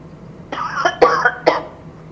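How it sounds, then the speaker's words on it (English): Three sharp coughs in a quiet room during a city library board meeting, spaced about half a second apart, each a short harsh burst standing alone against low background hum. "Coughs do not count."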